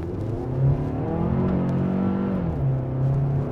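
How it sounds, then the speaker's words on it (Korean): New Hyundai Palisade with a four-cylinder engine accelerating hard, a steady rising engine drone heard from inside the cabin, loud and continuous. "지금 팰리세이드를 타보면 생각보다 풀 가속이 많이 필요하네. 생각보다 많이 밟아야 되는구만"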